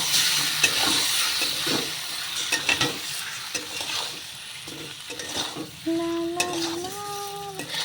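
Fish and onion sizzle and crackle in hot oil in a wok while being stirred, a steady frying hiss with scraping stir strokes throughout and a brief tonal ring near the end.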